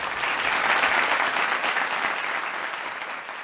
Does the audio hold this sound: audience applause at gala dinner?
yes